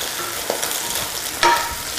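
Arugula and dried apricots tossed in a hot pan, giving a steady sizzling hiss with a soft stirring scrape and a brief louder toss near the end, close by with no talking.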